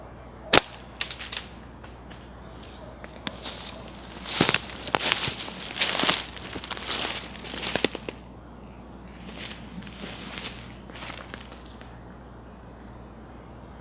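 Homemade catapult-style slingshot being shot, giving a series of sharp snapping cracks, some single and some in quick clusters, fairly close with quiet gaps between and no talk.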